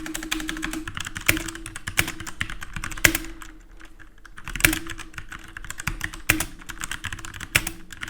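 Rapid typing on a computer keyboard, with crisp clicky keystrokes in quick bursts and a brief pause midway, close and fairly loud.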